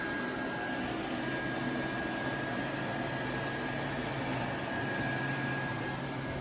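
Steady, continuous blower fan hum inflating a 2003 Gemmy 8ft Sam the Snowman inflatable, a close, constant broadband whir with a faint tonal whine and no speech.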